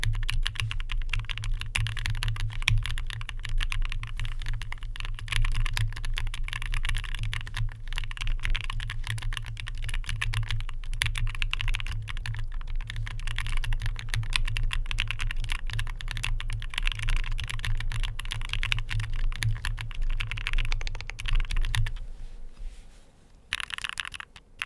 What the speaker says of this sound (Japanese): 見ていただいた PBT でできたキーキャップの方の音もぜひちょっと聞いてみてください